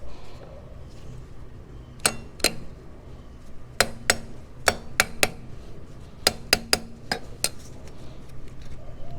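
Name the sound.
tapping motorcycle rear wheel to knock it out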